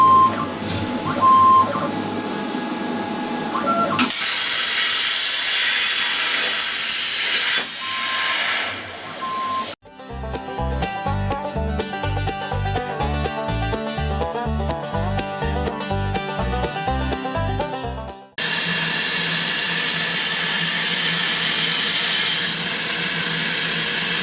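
3mm steel plate being cut into brackets, loud and close, with long harsh hissing passages and a middle stretch of rapid rhythmic mechanical pulsing, with no talking.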